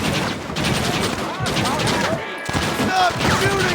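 Dense gunfire from the video game Red Dead Redemption, rapid overlapping shots in a sustained barrage with shouted voices mixed in throughout.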